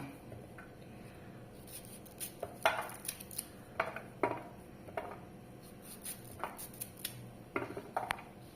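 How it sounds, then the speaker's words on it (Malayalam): A knife taps against a cutting board in quick, irregular clusters of soft chops as a mango is cut into small pieces for pickle, close and quiet, with no talking. "അതെ, ഇങ്ങനെ ചെറുതായിട്ട് അരിയണം മാങ്ങ."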